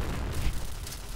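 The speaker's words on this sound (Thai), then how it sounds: "ระเบิด" A grenade explosion in the first-person shooter Point Blank, a dull low boom rumbling for about a second at moderate level, with no talking over it.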